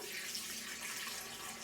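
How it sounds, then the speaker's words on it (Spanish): Water pours steadily into an electric kettle during a home repair to check for a leak at the seal. It makes a continuous, soft, hissing splash with no talking. "Para ello vamos a llenarlo de agua"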